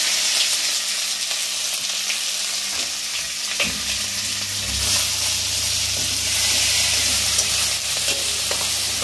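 Meat fries in a pot for chicken pulao, giving off a loud, continuous sizzle and hiss with occasional stirring noises and a slight shift in tone partway through.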